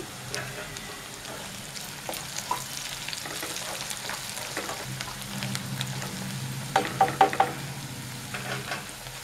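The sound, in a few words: frying ginger, onions and coriander in a pan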